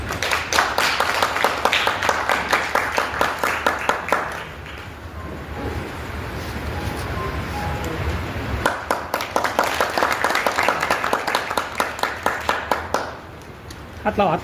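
An audience at a state-level award ceremony with a poetry book launch and poets' gathering claps in two long rounds of rhythmic, fairly loud applause, with a stretch of talk and murmur between them.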